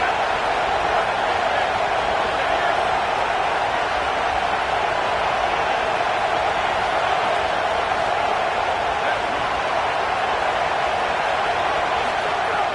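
A dense, continuous roar of a large American football stadium crowd on third down, steady and loud throughout with no breaks or distinct voices.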